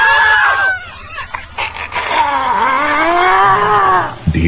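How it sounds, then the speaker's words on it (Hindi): Loud, high wailing screams for a ghost story, several overlapping shrill cries that rise and fall almost continuously, ending abruptly with a low thud. "बहरा कर देने वाली उनकी तेज और ऊंची चीखें।"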